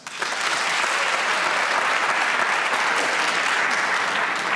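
Comedy show audience bursts into loud, sustained applause, dense clapping from a large crowd that starts sharply and holds at full strength without talk.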